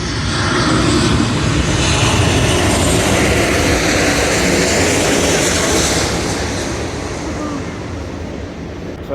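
Airliners landing at a nearby airport heard from outside a fast-food restaurant, a loud, broad jet engine roar that stays strong for several seconds and then slowly fades, with no voices over it.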